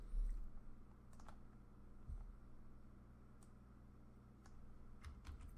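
Quiet, irregular keystrokes on a computer keyboard as code is typed, with scattered clicks and short pauses over soft background hiss.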